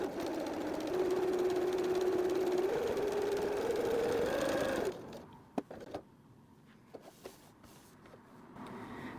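A sewing machine top stitching the thick corner of a bag pocket runs in a steady mechanical drone for about five seconds, its pitch shifting slightly, then stops and gives way to scattered clicks and handling noises.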